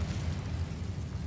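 The Incendio fire spell is cast in the Hogwarts Legacy video game, bursting out as a short, steady, close roaring whoosh of flame.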